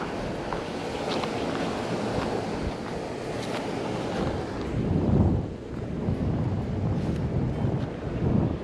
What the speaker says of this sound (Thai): มันได้ลม มันได้ลมด้วยนะครับ แล้วก็มีน้ำด้วย